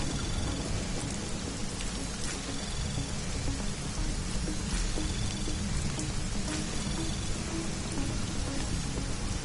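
Heavy rain in the video game Deus Ex: Mankind Divided, an even, continuous hiss of drops hitting surfaces with faint thunder low beneath it, and no one speaking.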